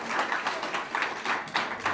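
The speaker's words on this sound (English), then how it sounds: "I want to give everybody to give a round of applause to all of the participants" An audience at a school public speaking competition claps for the participants, a dense, steady patter of many hands at moderate volume.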